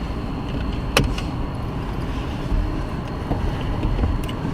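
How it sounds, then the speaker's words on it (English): Car engine idling steadily just after starting, a low continuous rumble filling the cabin with a couple of faint clicks and small bumps over it; no talking. "I turned the car on."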